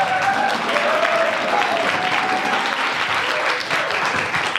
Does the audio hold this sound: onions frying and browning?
no